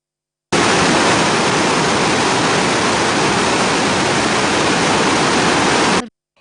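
Water roars steadily through the opened sluice gates of the Makana Dharavi reservoir, a loud, dense, unbroken rush that starts abruptly and cuts off after about five and a half seconds.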